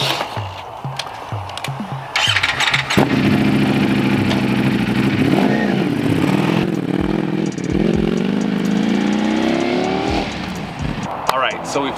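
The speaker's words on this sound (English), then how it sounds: "So we've test rode the bike" A motorcycle's engine revs and pulls away during a test ride with a private seller, its pitch climbing and falling through gear changes, loud and close, with some background talk.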